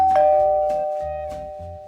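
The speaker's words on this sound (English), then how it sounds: "said Paddington as he pressed Mr. Curry's bell" A doorbell rings with clear two-tone chimes, struck several times in a steady rhythm, loud and close with a long ringing decay and no voices.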